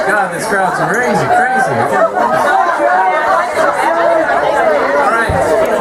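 A packed party crowd at a 40th birthday chatters loudly and continuously, with overlapping voices filling the room close by.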